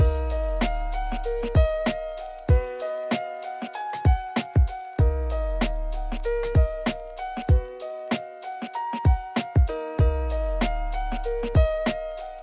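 Lo-fi, gritty resampled virtual instrument music: a looping keyboard melody over thumping low kick-like beats and a rough, muddy tone, steady and mid-loud, with no voice.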